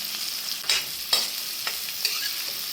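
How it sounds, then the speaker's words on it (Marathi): Chopped onion frying in a pan for a spicy children's snack, a steady sizzle broken by several sharp stirring scrapes close by, with no talk. "आणि आता आपल्याला आधी घालायचं आहे कांदा."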